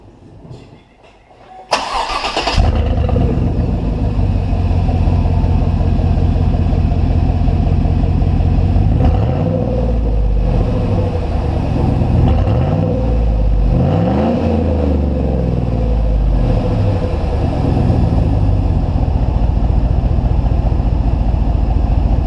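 A 2016 Chevy Silverado 5.3L V8 with a custom, cut-off exhaust starts warm inside a garage, then revs repeatedly to about 3,000 RPM, loud and close, with rising and falling engine sweeps and no talking.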